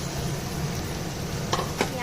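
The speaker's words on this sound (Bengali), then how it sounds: "পেঁয়াজটা ভাজা না হওয়া পর্যন্ত আমি এটাকে নাড়তে থাকবো।" Chopped onion and potatoes sizzle and fry in a pan while being stirred, a steady close hiss with two brief scraping clinks near the end.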